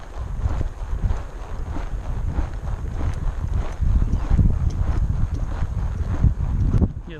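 A ridden horse's hooves thud in a steady rhythm while it circles during a training session, heard close up with wind buffeting the microphone.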